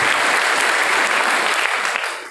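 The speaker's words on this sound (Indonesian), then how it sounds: "Tepuk tangan untuk kita semuanya." High school students at a motivation seminar burst into loud, dense applause, a continuous close wash of clapping that fades slightly at the end, with no talk over it.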